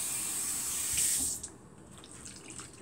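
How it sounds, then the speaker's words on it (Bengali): Water pours steadily into a cooking pot of lentils and bottle gourd for over a second, then the stream stops, leaving a quiet kitchen background with faint small clinks. "এভাবে কষানোর পরে পানি ঢেলে দিলাম"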